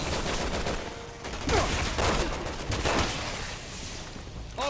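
Gunfire in the video game Resident Evil 6, rapid overlapping bursts of shots and crackling blasts stacking into a loud, chaotic volley with short gaps between.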